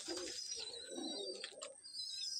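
A Madrasi pigeon from a long-kept breeding line coos softly in a few low, rounded phrases, close by, with faint chirps and loft noise in the background and no talking.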